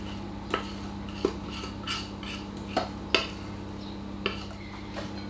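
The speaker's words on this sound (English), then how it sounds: "gently mix it all together" Spoon stirring a sticky malt mixture into dried fruit in a bowl for malt loaf, giving sparse knocks and scrapes against the bowl every second or so over a steady low hum.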